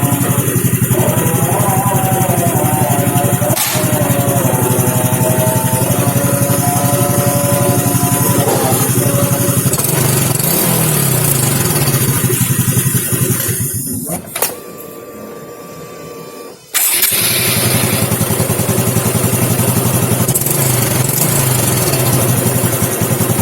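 A Honda Supra X motorcycle engine runs at a smooth idle after a cam chain replacement, a loud, close, continuous hum that cuts out briefly partway through before resuming.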